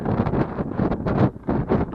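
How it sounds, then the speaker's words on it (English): Strong wind gusts buffet the microphone on an exposed fell during a night wild camp near Great Calva and Knott, in irregular surges of loud, rumbling rush. "It was quite windy."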